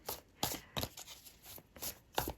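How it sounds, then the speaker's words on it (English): Soft, quick riffles and slaps of tarot cards being shuffled, a handful of short bursts close by and quiet, with no talking. "from the first deck, we will shuffle"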